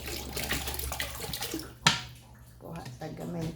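Tap water runs and splashes into a container while mixing homemade dishwashing liquid, a steady close pour with a brief splash spike midway, under soft talk.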